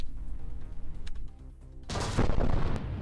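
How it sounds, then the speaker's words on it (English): A laser weapon fires in the video game From the Depths, a sudden loud burst of rough, sustained noise erupting after quieter rumbling and continuing to the end. "No, it's not a particle cannon, it's a laser."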